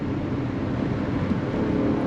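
A 2021 Nissan Murano's engine roars at full throttle through a bend on winding roads, a continuous close, loud engine drone without any talking.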